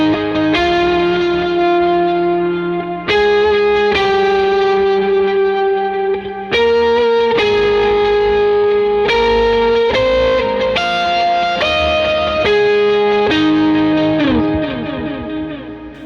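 Clean electric guitar chords ring out through an H90 effects unit with shimmering octave layers, long delay repeats and a wash of reverb, steady and loud.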